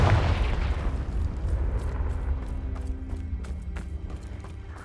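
A Confringo fire spell blast in the video game Hogwarts Legacy: a loud booming explosion that rumbles and decays over several seconds, with scattered crackling pops as it fades.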